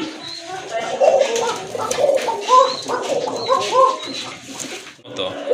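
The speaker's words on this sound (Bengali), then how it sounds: "এই যে দেখেন কত সুন্দর ডাকে কবুতরগুলো, ডাকে।" Fancy pigeons in a loft, including a sky-blue Raj Golla pair, coo repeatedly up close in rolling, overlapping phrases, with a voice running alongside.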